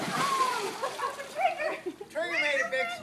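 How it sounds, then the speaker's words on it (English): A dog named Trigger makes a big splash in swimming water, a bright spray heard close by, with adults and someone talking throughout. "Trigger made a big splash"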